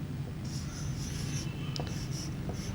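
Marker or pen writing numbers on a board, faint scratchy strokes in short bursts over a steady low room hum, with no talking.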